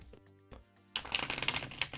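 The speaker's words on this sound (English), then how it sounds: "Just because it's fun to shuffle." A long deck of tarot cards is shuffled by hand, a dense burst of riffling card noise starting after a few soft taps and continuing close to the end.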